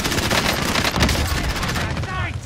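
Rapid gunfire in a Call of Duty match, dense bursts of shots close up with the player's voice shouting over the shooting before it thins out near the end.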